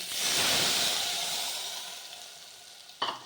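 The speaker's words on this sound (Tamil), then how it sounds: "மோரை ஊற்றிக்கலாங்க" Buttermilk hits a hot pan for mor kuzhambu, a loud burst of hissing sizzle that fades over a few seconds, ending with a short clatter.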